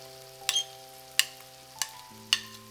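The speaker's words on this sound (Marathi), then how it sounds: "आता भाज्या घालून घेऊया आपण." Four sharp, evenly spaced clatters of vegetables being stirred in a pan for veg dum biryani, with a low hum running beneath and no one talking.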